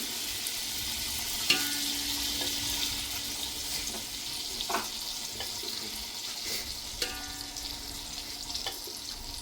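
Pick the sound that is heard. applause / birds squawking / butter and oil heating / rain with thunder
butter and oil heating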